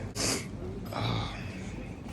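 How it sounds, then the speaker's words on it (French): A couple of short, breathy sniffs in the cold, close by, with soft rustling and a bit of low background noise between them. "Je renifle, il fait froid."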